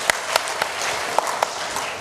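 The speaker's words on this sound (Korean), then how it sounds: "박수." A church congregation claps together in time at an adult Bible school gathering, giving a few sharp, spaced group claps over a steady background of crowd noise.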